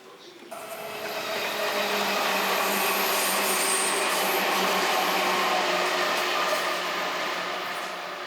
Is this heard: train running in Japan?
yes